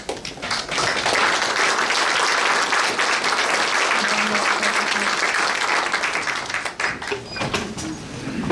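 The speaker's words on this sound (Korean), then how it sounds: "큰 박수로 함께 인사하며" A church congregation at a mission society's general assembly worship service gives sustained, dense applause that fills the hall and then thins into scattered claps, with a faint voice underneath.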